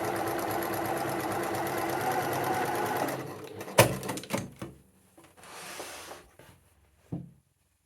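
A sewing machine stitches a fabric seam on a beginner tunic, a fast steady mechanical whirr for about three seconds, then stops, followed by clicks, a thump and handling noises.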